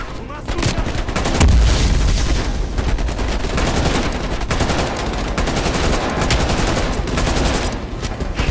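Sustained gunfire in Call of Duty Black Ops Cold War: dense automatic bursts and heavy booms pour out almost nonstop for several seconds, loud and close, with a deep thump early on.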